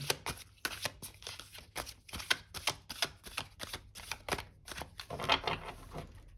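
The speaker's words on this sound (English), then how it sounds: "we'll do one last shuffle" Tarot cards are riffled and shuffled in quick, crisp bursts of flapping and snapping, close by, with no talking.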